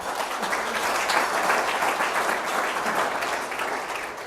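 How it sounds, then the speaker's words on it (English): Dinner guests give a sustained round of applause, loud and continuous from a large room with no pauses. "Round of applause"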